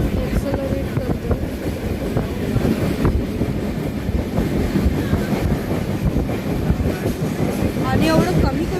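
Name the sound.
Janshatabdi Express train accelerating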